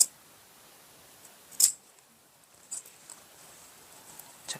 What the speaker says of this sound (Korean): 이 트임 부분을 중간을 딱 잘라 주세요.